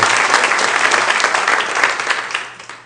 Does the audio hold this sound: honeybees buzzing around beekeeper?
no